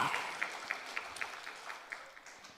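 A church congregation claps together during a sermon, a fairly faint, loose round of applause fading out over a couple of seconds.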